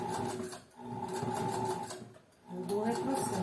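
A sewing machine stitches a fabric seam up close with a steady, rapid mechanical whirring. The stitching breaks off briefly twice and then resumes.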